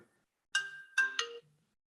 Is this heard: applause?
no